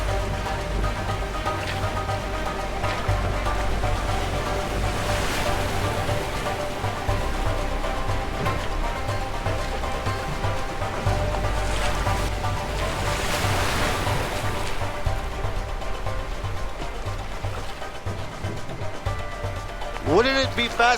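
Motorboat crossing rough water in the video game A Way Out, a steady loud rush of waves and wind with engine drone throughout, while two characters talk over it.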